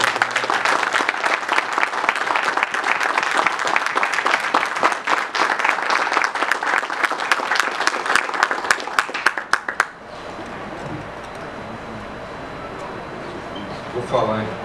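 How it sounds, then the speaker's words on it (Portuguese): An audience at an economics lecture gives the ambassador a round of applause, about ten seconds of loud, crisp, dense clapping that stops abruptly and leaves quiet room noise with faint speech. "Eu pediria a todos uma salva de palmas para o embaixador."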